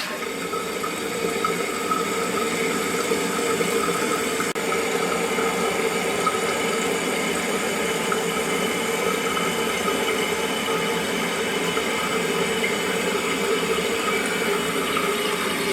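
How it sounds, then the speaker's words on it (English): Water runs in a steady, unbroken trickling rush into the overflow tube inside a leaking toilet tank, continuous and close, with no voices. "The water is now going into the overflow tube"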